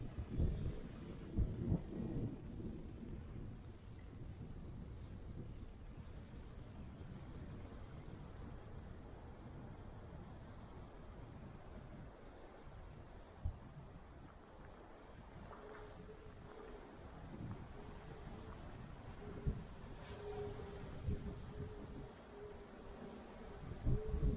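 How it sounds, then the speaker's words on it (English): Rough sea and blustery wind on the Cornish coast near Levant Mine, a low continuous roar of surf and gusts with occasional heavier rumbles, distant and fairly faint. "That's just a rough sea."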